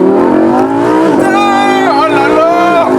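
A Lamborghini Huracan Spyder's V10 engine revs hard and accelerates up close, its loud rising howl climbing through gears with a brief dip between shifts.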